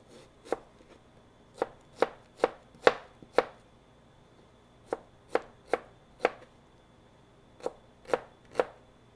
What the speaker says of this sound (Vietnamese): Đó là cái cách cắt hạt lựu rất là nhanh phải không thưa quý vị?